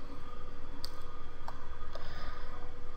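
Faint, crisp mouse clicks, a few spaced taps including a quick pair, over a steady pulsing background hum.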